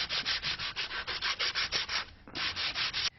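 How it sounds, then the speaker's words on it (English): Fine sandpaper rubs back and forth along the edges of a wooden frame for joining, a steady rhythmic series of quick, close, scratchy strokes with one brief pause partway through. "When you sand it down, don't take too much off, or you're going to end up with a very sloppy joint."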